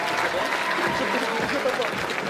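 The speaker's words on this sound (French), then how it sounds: "je vous demande de l'applaudir et de faire du bruit pour lui." A crowd at a combat-sports event applauds and cheers for a fighter in the blue corner, a steady wash of clapping and crowd noise with faint voices mixed in.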